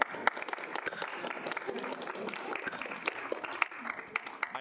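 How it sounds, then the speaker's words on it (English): A student senate audience breaks into applause after a bill passes, a loose scattered clapping at moderate level running throughout, with a few sharper individual claps standing out. "I appreciate the clapping."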